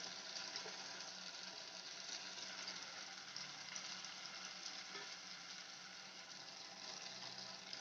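Small prawns sautéing with onion and tomato in a pan make a steady, faint, even sizzle with a soft hiss throughout, unbroken and without voices.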